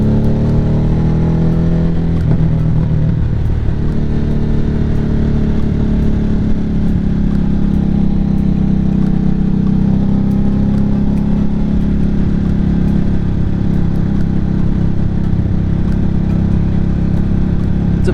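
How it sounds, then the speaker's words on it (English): A Harley-Davidson Nightster rolls downhill on engine braking, its engine rumbling loudly and steadily up close with a low, continuous drone and faint crackle, no speech. "Lots of pops right there going downhill and letting the bike engine brake."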